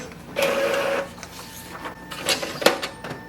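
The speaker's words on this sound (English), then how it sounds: "So it is just printing blank pages" Epson EcoTank ET-2400 inkjet printer running while faulty and feeding out blank pages, with whirring motor passes, a sustained mechanical buzz and several clicks and clunks of the paper feed, close and clear with no talking.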